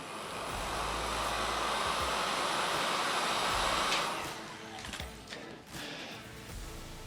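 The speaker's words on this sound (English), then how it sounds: "I'm just going to use the heat gun on that." A heat gun blows steadily on a cut vinyl decal with transfer film, a broad continuous airy roar that holds loud for about four seconds, then drops and wavers as the nozzle moves away.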